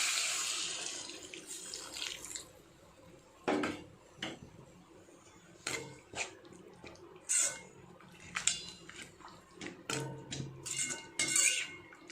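Water runs and splashes in short bursts as it is poured into a pot, with metal clinks of the pot and utensils between pours, close by and fairly quiet.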